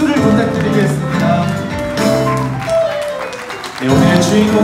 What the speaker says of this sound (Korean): 여러분 두 사람에게 끊임없는 박수를 부탁드리겠습니다.